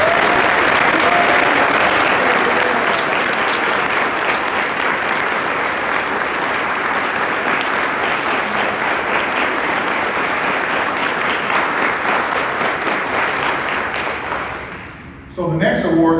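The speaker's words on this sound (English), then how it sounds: "Round of applause." Sustained audience applause fills the hall at an awards banquet for a youth challenge academy, a dense steady clatter of many hands for about fifteen seconds before thinning out near the end.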